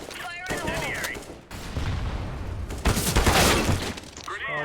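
An incendiary grenade bursts in CS:GO with a crackling, shattering whoosh and fiery hiss amid background gunfire and game noise, loud and sustained with brief voice chatter at the edges.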